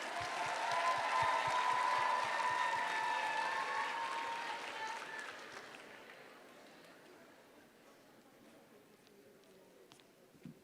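Applause at a junior debate showcase in Barcelona greeting the first negative speaker, brisk clapping with scattered voices that peaks early, then fades over several seconds to a few lingering claps.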